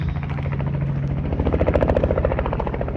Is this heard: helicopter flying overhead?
yes